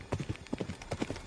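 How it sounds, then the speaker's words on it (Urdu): In an audio drama, a horse gallops across the ground, its hooves making rapid, close clip-clop beats in an uneven rolling rhythm over a brief stretch. "عمران کا گھوڑا اسی سمت دوڑا جا رہا تھا۔"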